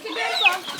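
A chicken gives a short, close cluck with a rising squawk in an outdoor setting in Puerto Rico, heard alone in a brief burst.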